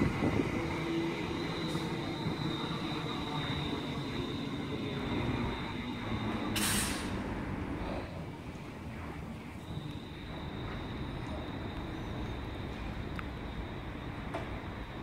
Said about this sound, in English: approaching now is going to be a Class 390 Pendolino. Doing a nice tilt there, bound for Manchester Piccadilly